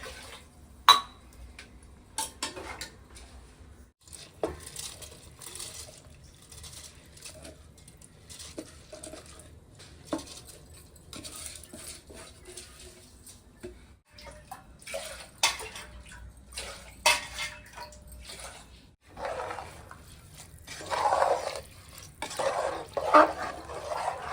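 Four tumblers of water poured one after another into a pot while making an extra-large dosa, a repeated splashing and gurgling with clattering of utensils in between, close and moderately loud.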